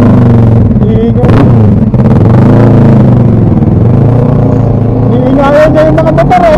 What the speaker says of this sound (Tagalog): Iingayan niya yung mga motor eh.